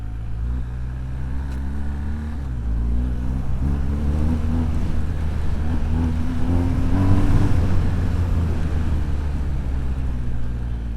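An adventure motorcycle rumbles over a rough, potholed road in India, its engine drone steady and close with a low throb that swells and eases as the bike bumps along.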